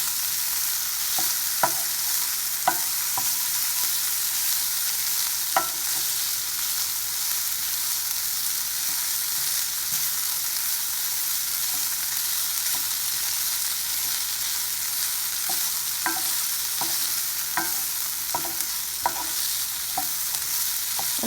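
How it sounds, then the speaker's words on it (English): Vegetables and Spam are sautéed for pork fried rice, a steady dense sizzle under regular sharp clicks of a utensil stirring and tapping the pan, close and with no one speaking. "I'm just going to keep sauteing this until it's done."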